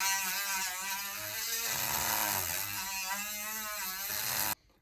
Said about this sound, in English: this is just a sandpaper Dremel type situation